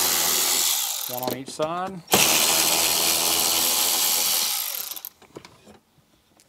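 A power tool whirs and ratchets while removing two 7 mm bolts from a metal brace inside a Jeep Wrangler JK dash, one sustained loud run, then it stops; someone speaks briefly before it starts.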